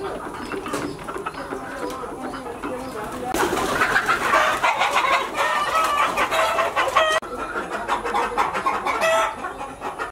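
Local hens cluck busily on a village poultry farm while a rooster crows, loud and close, with a denser burst of calls midway and a voice talking at times.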